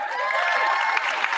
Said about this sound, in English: Yeah, that's worth a round of applause.